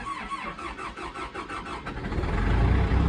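A diesel engine cranks with a rhythmic, pulsing starter churn for about two seconds, then catches and runs with a deeper, steady rumble, close and loud, with no talking.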